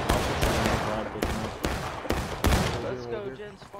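Heavy musket volleys crack out in War of Rights, a 150-player open-field battle, several sharp shots and rolling fusillade bursts close by in quick irregular succession with shouting voices underneath.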